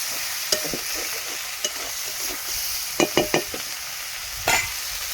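Raw ingredients fry in hot oil with a steady, loud sizzle, broken by a few sharp clicks and scrapes as the pan is stirred.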